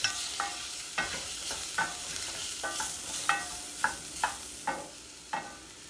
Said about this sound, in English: I'm putting those in now just to bloom them in the oil before I add my tomato sauce.